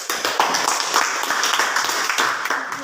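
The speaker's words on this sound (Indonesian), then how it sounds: "Tepuk tangan untuk kelompok." Classmates clap for a presenting group in a school lesson. The applause is a quick, continuous patter of many hands, fairly loud and near, lasting nearly three seconds, with hardly any talk.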